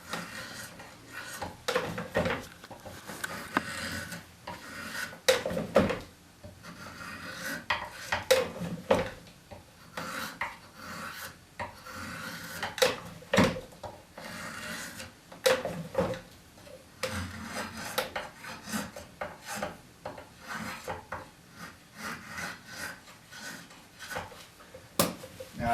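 Steady scraping strokes of a rasp working the corners off a wooden chair post tenon, repeated rough rubbing in an uneven rhythm, close and alone.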